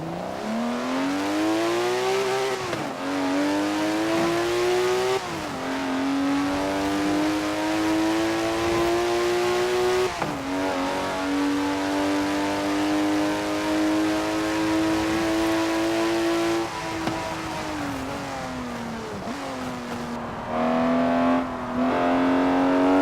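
A car engine in Forza Horizon 4 revs steadily and climbs through rising pitch, with several brief dips like gear shifts, loud and close throughout with no speech.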